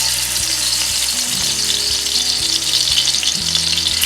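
Over a tablespoon of garlic sizzles and fries in a pan for beef vegetable egg rolls, a loud, steady crackle with a low tonal hum running beneath it throughout.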